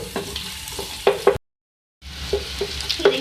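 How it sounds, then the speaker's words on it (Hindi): Chopped green chilies frying in a pan, a hissing sizzle with a few scraping stirs, cut by a short silent gap before the frying sound returns. "मैं इसमें हरी मिर्ची ऐड कर रही हूँ 2 से 3 चॉप। इसको फ्राई करेंगे"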